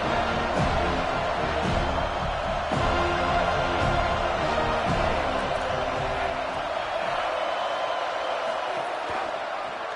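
A stadium crowd at a football game roars loudly and steadily, a dense wall of noise with scattered shouts and whoops throughout.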